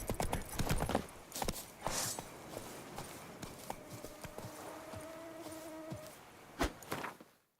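Horse hooves in The Witcher 3 video game beat out rapid clip-clop strikes that run at a quick, uneven pace, with a brief tonal game sound near the middle.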